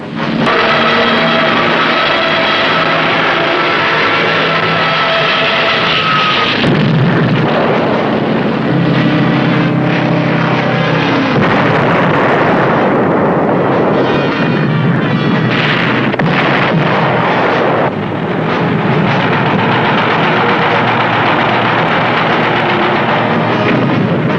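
Loud, continuous battle din of explosions, artillery-like booms and gunfire for the Pearl Harbor surprise attack of December 7, 1941, dense and roaring throughout with no speech.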